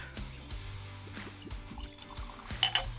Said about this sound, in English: I want to open this up and give it a pour and set it aside